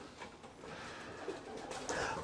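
Racing pigeons coo softly inside a loft, a few faint murmuring calls over quiet room noise, with no voices.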